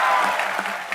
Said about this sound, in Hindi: आज गावस्कर साहब के लिए तालियां तो बजती रहेंगी